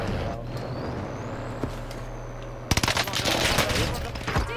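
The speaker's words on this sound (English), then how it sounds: "I think I'm taking fire." Video game gunfire in a first-person shooter match, a dense burst of rapid shots erupting midway after a quieter stretch of distant rumble and scattered pops, loud and close.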